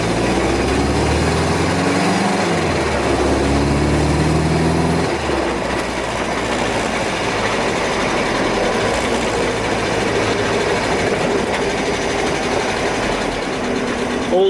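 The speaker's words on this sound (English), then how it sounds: "I get super high in the revs from switching gear and stuff like that" Loud, high-revving car engine driven hard through gear changes, with pitch sweeping up and dropping in the first few seconds before settling into a steady, droning roar; a voice talks underneath.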